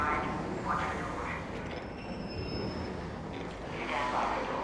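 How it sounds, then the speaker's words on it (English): Train rolling into a station, a steady broadband rumble of wheels and carriage noise with a faint high squeal, loud and continuous from start to end, with no talk over it. "Train has arrived."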